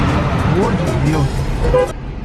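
A car horn toots briefly over nearby road traffic as people talk excitedly inside the vehicle.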